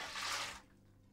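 Water from a faucet or jug splashes into a container for a Swedish pickled herring marinade, a short burst lasting about half a second before it stops.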